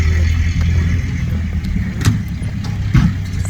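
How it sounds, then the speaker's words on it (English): Old-timey cars from a car club start up and drive away outdoors, a steady low engine rumble with brief surges, fairly close and loud. "The old-timey car club is here. They're all getting back in their cars though."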